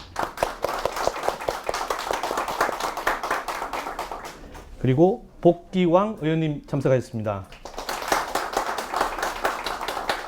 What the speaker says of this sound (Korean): 한 분 한 분 소개해 드릴 때마다 따뜻한 박수로 맞이해 주시기 바랍니다